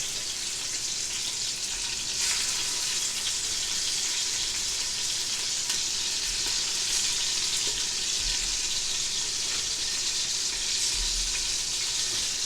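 Beef chunks searing in a pot for Appalachian beef and vegetable soup, a constant loud hiss and crackle of sizzling fat that carries evenly throughout with no talking.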